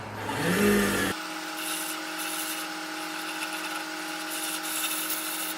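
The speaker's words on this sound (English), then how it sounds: "now I'm going to do some sanding" A power sander works over a small wooden Christmas tree craft with 150-grit paper at low speed, giving a steady, close whirring hum with a rough scratchy edge that runs without a break after a short opening burst.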